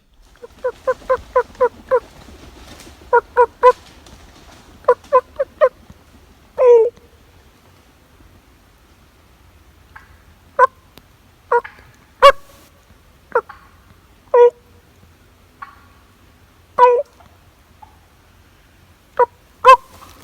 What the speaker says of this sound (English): you're going to hear an audio portion of me clucking at some turkeys